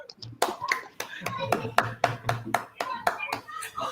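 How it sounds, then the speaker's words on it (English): A small group of people at a community panel session clap their hands in a brisk run of sharp, close claps lasting several seconds, with voices murmuring underneath. "We are clapping our hands for him already."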